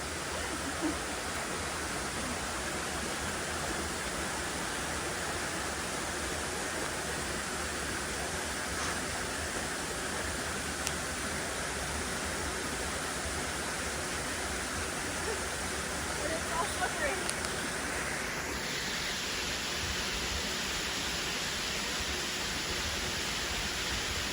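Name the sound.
waterfall, Maunawili Falls in Hawaii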